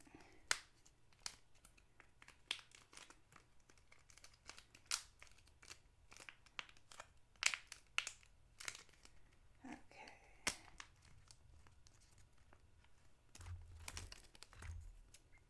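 Scissors snip through excess duct-taped edges of a Princess Leia cosplay belt, with quiet, scattered cuts and crinkling tape over a hushed room.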